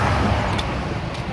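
Road traffic on the Pennsylvania Turnpike heavy with trucks, a dense, continuous low rumble and roar of passing vehicles heard close by, without speech.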